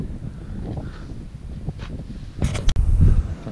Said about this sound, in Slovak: Trošku tu fúka.